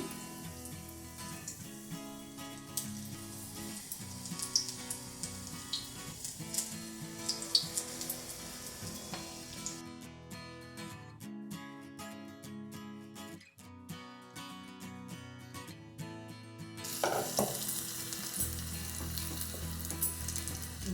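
Chilli bajjis deep frying in oil on a stove, a continuous bubbling sizzle close by that briefly quiets and then swells again, with occasional clinks of utensils and no one speaking.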